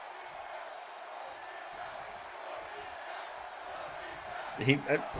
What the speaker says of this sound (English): Bagman's got the crowd worked up.